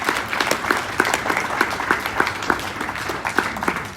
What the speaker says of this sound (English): Another round of applause for James Aling, please.